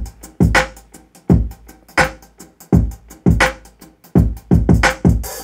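A layered hi-hat pattern from a Latin drum kit in Logic, programmed with loose, drunken timing in a music production session: sharp, bright hits fall in uneven clusters, some doubled and stacked, at close range with no voices.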